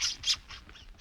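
A gull screams as a radio drama sound effect, two sharp, high squawks in quick succession followed by a fainter trailing cry.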